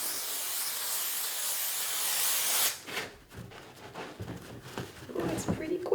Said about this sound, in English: So now I'm gonna use this spray glue, I guess, to stick this to the